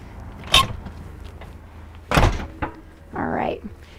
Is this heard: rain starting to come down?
no